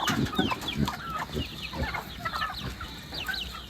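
Native chickens cluck and chatter in a flock as they wait to be fed outdoors, with many overlapping short calls close by and no talk.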